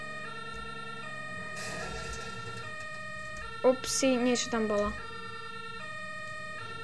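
A fire truck siren wails steadily in the emergency-response video game Emergency Hamburg, a constant tonal drone under game sounds, with a person talking briefly over it midway.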